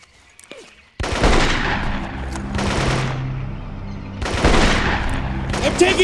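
Rapid bursts of automatic gunfire from a jungle shooter game, Marine Sharpshooter II: Jungle Warfare, crackle loudly in two long volleys separated by a short lull, with faint chatter beforehand.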